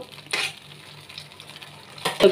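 Chilli koptas made from ash gourd are stirred into a thickened cornflour gravy, with two brief scraping strokes of a spoon in the pan over a low simmer.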